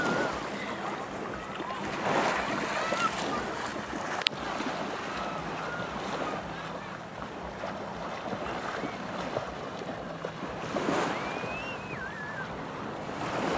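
Sea waves washing at a beach in Songkhla, Thailand, a continuous surf roar with wind buffeting the microphone, plus faint splashing and brief distant voices in the background.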